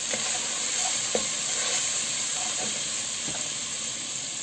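Turmeric and paprika are stirred in a pot of harira soup, with a steady close sizzle and hiss and a few soft knocks of the spoon, with no talk.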